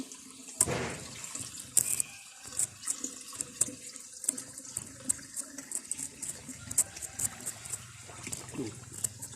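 Water runs steadily from a tap into a container as it fills, with splashing and occasional clanks and knocks close by and no one speaking.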